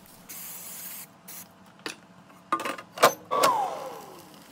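An oil spray can hisses onto char siu pork in an air fryer basket in several short bursts of varying length, close and fairly quiet, with small clicks and a metallic clink between sprays.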